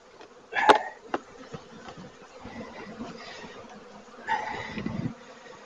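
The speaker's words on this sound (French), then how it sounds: "Les abeilles vont trouver le chemin." Honeybees buzz around an open beehive during a hive inspection, a soft, close drone with a few louder bursts as bees fly past, mixed with light handling noises of the hive cover.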